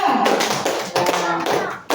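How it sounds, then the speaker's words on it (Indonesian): Classroom applause for a student group, a dense burst of claps from many students filling the room, with a brief dip and a fresh spurt of clapping near the end. "Kasih tepuk tangan dulu untuk kelompok 2."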